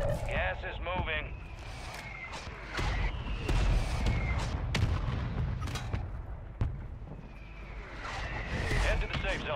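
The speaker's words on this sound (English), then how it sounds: "Mortar strike inbound." Mortar strike explosions in Call of Duty Warzone, a series of heavy booms and blasts spread across the stretch, mixed with game effects and scattered sharp bursts, fairly loud and close.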